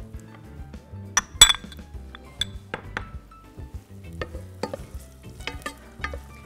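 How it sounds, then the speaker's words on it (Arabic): Onions sautéing in a pot already hot on high heat: a low sizzle runs under repeated stirring scrapes and clinks of a utensil against the pot, close and moderately loud, with no talking. "وراح اضيف البصل دغري لانه الطنجره اوريدي حاميه"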